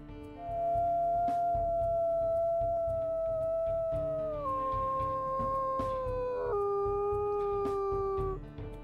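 A single long wolf howl from the video game WolfQuest, steady and clear, stepping down in pitch in a couple of stages before trailing off, over a faint low background hum.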